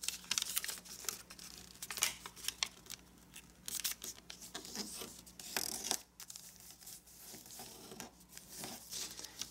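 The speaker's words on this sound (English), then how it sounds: "now let's fold this edge to the nearest crease" Paper folded by hand into an origami marble run, with close, crisp rustling, crinkling and creasing crackles coming in irregular bursts and no talking.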